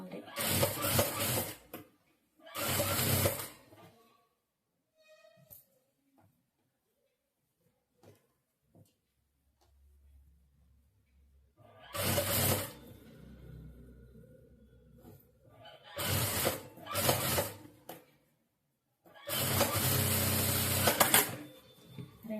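A sewing machine stitches a saree blouse, running along the main cloth over its turned lining, in several loud bursts of whirring separated by quiet pauses, with a faint mechanical sound between runs.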